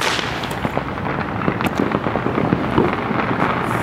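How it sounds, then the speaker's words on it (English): Fireworks burst at a distance, a steady crackling and popping spread across a dense outdoor backdrop, with several sharper bangs standing out but no single dominant blast. "Ooh, there's fireworks over there too."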